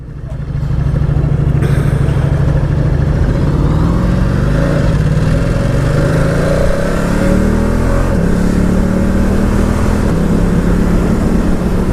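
A 2019 Ducati Diavel 1260S engine drones steadily while riding, its loud low hum rising and shifting in pitch as the bike accelerates, with continuous wind rush over the top.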